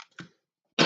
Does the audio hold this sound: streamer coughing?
yes